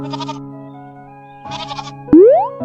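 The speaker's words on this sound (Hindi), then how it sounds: "तभी वहाँ पर एक बकरी आई।" Cartoon goat bleating in a children's animated story: two quavering bleats a moment apart, then a rising cartoon boing-like slide, all clear and close with no talking.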